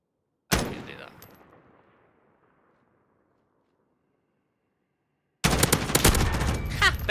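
A sudden loud burst of video game gunfire rings out and decays slowly into silence, then after a long quiet gap a dense, sustained volley of rapid shots starts up again close by.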